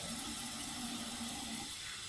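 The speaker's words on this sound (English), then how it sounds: "She gotta wash her face like she normally would." A steady rush of water runs from a sink tap while a face is washed, a constant moderate hiss with no talking over it.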